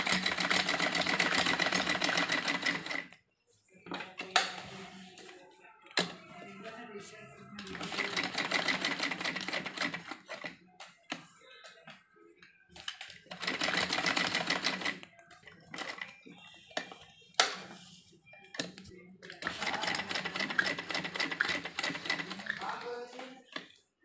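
A sewing machine stitches a cutwork neckline design, running in long steady buzzing bursts separated by pauses as the fabric is turned, while someone speaks in Hindi during the quiet gaps.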